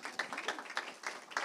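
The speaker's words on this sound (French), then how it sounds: "je crois qu'on peut encore l'applaudir" A small audience at a talk on online advertising claps briefly for a speaker, a scattered patter of hand claps heard at a modest distance.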